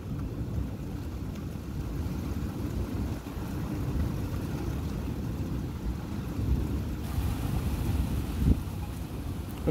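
A summer thunderstorm in the UK, with steady rain and wind roaring across the microphone and low distant rumbles of thunder beneath, continuous and fairly loud throughout, with a slightly heavier burst near the end.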